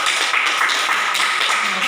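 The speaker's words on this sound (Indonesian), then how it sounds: "Ya, tepuk tangan." A class claps together in a classroom: a dense, steady patter of many hands that holds evenly loud for about two seconds, with no talking over it.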